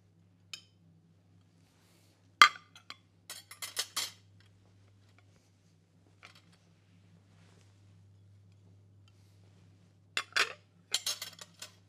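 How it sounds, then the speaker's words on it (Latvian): Dishes being laid on a table for guest service, with plates and then bread plates set down: a few sharp ceramic clinks and clattering bursts separated by quiet pauses, close and fairly clear, with no talking. "Sāksim, protams, ar šķīviem. Un pēc tam ar maizes šķīviem."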